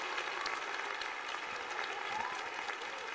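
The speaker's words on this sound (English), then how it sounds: "I'll give Trey a little round of applause there." Crowd applause at a Phillies vs. Giants baseball game, a broad, even wash of clapping and stadium noise heard from a distance, steady and fairly faint.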